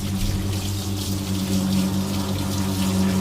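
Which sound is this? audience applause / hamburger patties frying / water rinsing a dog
water rinsing a dog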